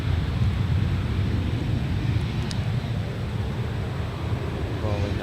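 An airliner powered by CFM56 jet engines taking off at Adelaide Airport, a steady broad roar of thrust dominated by low rumble, continuous and fairly loud throughout.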